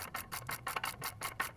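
A hand ratchet spins a CV axle bolt on an Audi A4 B7 front axle, making a fast, steady run of close rasping clicks in about eight even bursts, loud and near with no talk.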